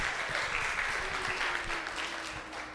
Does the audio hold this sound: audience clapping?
yes